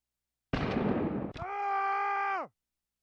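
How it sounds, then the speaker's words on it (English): Cannon fire in the pirate video game Rise of Piracy: a single heavy blast bursts out, followed by a sustained, tonal rumbling ring that holds for about a second before cutting off. "the cannons are loud"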